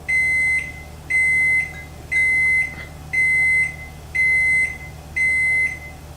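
An oven signals it has finished preheating with six evenly spaced, long electronic beeps about a second apart, clear and steady over a low background hum.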